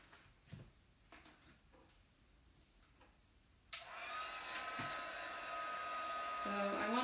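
A hair dryer blowing on chalk paste spread over a tea towel: after a few quiet handling knocks it switches on abruptly and holds a loud, steady whooshing whine for several seconds.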